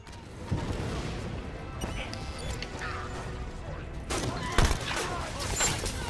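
Gunfire in Halo 5 during a legendary solo run fills the scene as a dense, continuous crackle of shots, with sharper bursts and impacts standing out near the end.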